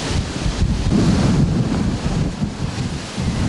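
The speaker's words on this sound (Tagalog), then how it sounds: "Halos lamunin na ng malalakas na alon ng Manila Bay ang Roxas Boulevard kaninang umaga" Strong waves of Manila Bay surge against the seawall along Roxas Boulevard, a loud, continuous roar of surf heavily mixed with gusting wind buffeting the microphone, with no voices.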